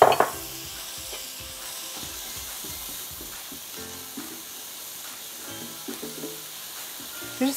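Diced onion sizzles softly in melted butter with a steady, quiet hiss, broken by a few light stirring scrapes.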